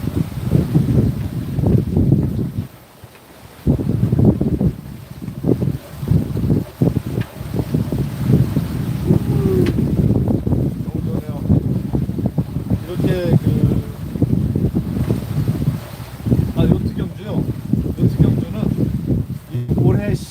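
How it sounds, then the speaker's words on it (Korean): Steady wind gusts across a sailboat at sea in the Caribbean, a continuous low roar with buffeting microphone rumble and faint rustling, no voices. "바람소리를 들려드리기 위해서"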